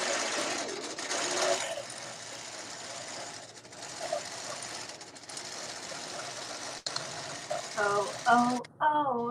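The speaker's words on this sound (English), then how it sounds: "It's quilting itself." A computerized quilting machine stitches on its own, a continuous close mechanical whir and rapid needle rattle, with a voice speaking over it near the end.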